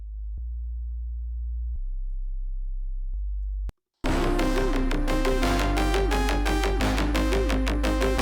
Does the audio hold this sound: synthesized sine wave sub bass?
yes